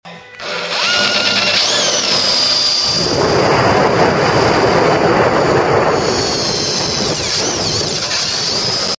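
A power drill whines, then bites into a Mk3 Cortina body to drill out spot welds, giving a loud, continuous rough grinding that holds for several seconds before cutting off abruptly.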